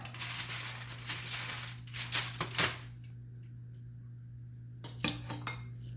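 Bourbon BBQ ribs are flipped in a pan, giving bursts of metal tongs clattering and scraping against the cookware, loud and close, then a quiet pause before a few more clinks.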